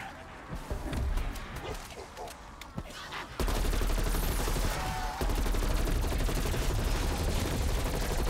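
Rapid bursts of gunfire in a zombies mode video game, loud sustained automatic shots in dense volleys, with a sparse lead-in before the firing becomes continuous.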